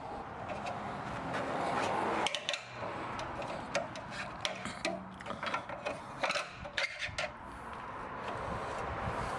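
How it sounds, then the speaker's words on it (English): A small pry bar working at a plastic hubcap on a 1992 Toyota Camry, with scattered light clicks, taps and scraping knocks, close and fairly quiet, over a steady background hum. "Take small pry bar and start working the hubcap."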